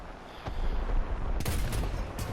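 A tank gun in War Thunder firing on a Panzer 38t, heard as a sharp crack and then a heavy close blast with a rumbling tail and a smaller burst after it, with no talking.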